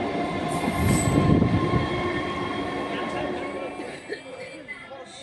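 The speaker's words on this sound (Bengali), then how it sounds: "ট্রেন আসবে এখন, ট্রেনে চাপবো।" A train rumbles into a station, a loud rolling wheel roar swelling and then easing as it slows, with a faint squeal, people talking on the platform beneath.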